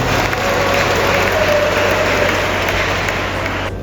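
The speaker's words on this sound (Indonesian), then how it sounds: "Tepuk tangan dulu untuk Fakultas Teknik." Sustained applause from an audience at a Sriwijaya University ceremony in Indonesia opening a modern construction laboratory, for the Faculty of Engineering, dense and steady for nearly four seconds before cutting off abruptly at the end.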